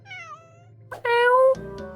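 Cat meows from a character in an indie video game, two clear meows: a falling one at the start and a louder, longer one after a short pause, over a faint low game hum.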